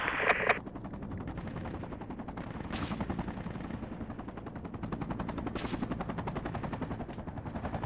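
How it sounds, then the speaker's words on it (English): Sustained military video game gunfire during a firefight near Humvees on a road, a steady dense rattle of rapid shots with a couple of sharper bursts, continuous throughout. "Hey, taking fire."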